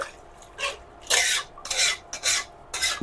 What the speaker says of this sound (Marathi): पाणी टाकल्यानंतर ना भात चांगला मिक्स करून घेऊ आपण।